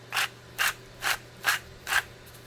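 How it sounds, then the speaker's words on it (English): Himalayan salt crushed in a hand salt grinder gives five evenly spaced, short gritty grinding bursts, close and fairly quiet. "I am just going to grind up some Himalayan salt."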